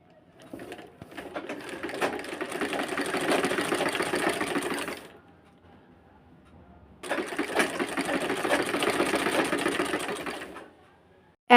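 Sewing machine stitching gauze fabric pieces together for a large, full-skirted prayer hijab, running in two sustained bursts of steady rapid whirring separated by a short pause, close and fairly loud with no talk.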